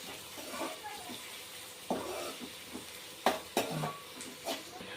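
Onions frying in a pan for chicken curry, a soft sizzle under scattered stirring scrapes and a few sharp utensil knocks against the pan, fairly quiet and close.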